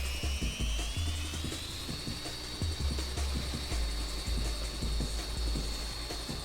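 A radio-controlled 3D helicopter hovers close by, its high whining motor tone drifting in pitch over a rapid, choppy beat from the rotor blades. The sound is continuous and loud throughout, with no talking.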